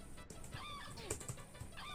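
Bird squawking in the Captain Claw video game, a goose-like honking cry over continuous busy game sound throughout.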